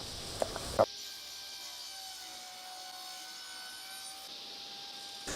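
A saw making a long miter cut in Tasmanian ash: a few sharp clicks open the sound, followed by a steady, even whirring drone with a faint tonal hum that holds for several seconds, close and moderately loud.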